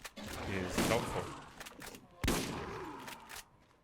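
Gunfire in the video game Borderlands, a loud burst of rapid shots followed by a second sharp blast and further firing, with a voice speaking between the shots.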